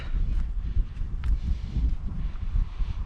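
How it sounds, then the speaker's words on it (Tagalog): Strong wind gusts through a cave on Bermuda, a low, steady rumbling rush with buffeting against the microphone, moderately loud and continuous with no talk. "lakas ng hangin."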